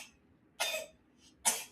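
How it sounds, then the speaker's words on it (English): Someone nearby gives two deliberate fake coughs, short and fairly loud, separated by a brief quiet gap with a faint breath in between. "you fake coughing over there"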